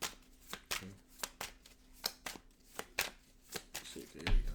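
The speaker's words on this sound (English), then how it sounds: "One more shuffle here." Tarot cards being shuffled by hand, a steady run of quick riffling slaps and flutters repeating about twice a second, close and crisp, with faint background music.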